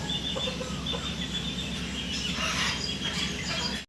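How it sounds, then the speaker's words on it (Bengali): Golden Sebright chickens, a rooster and hen pair kept as fancy poultry, cluck and call amid a busy, steady din of other fowl close by, with no talk. "খুব সুন্দর একটা মুরগির আমরা এখানে জোড়া দেখতে পারতেছি"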